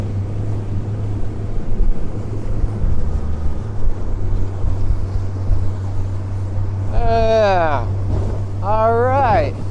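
An 18-foot 2002 Alumaweld Super Vee aluminium boat with a Yamaha 115 HP outboard makes a high-speed turn through waves, its steady engine drone running throughout under wind noise and water slap, with a voice briefly heard near the end.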